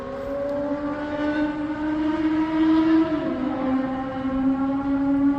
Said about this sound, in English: Loud ass motorcycle.